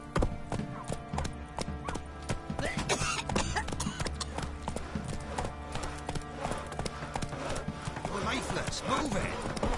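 Horse hooves clip-clop steadily on the ground in The Witcher 3 video game, with a whinny heard and a voice speaking over the hoofbeats.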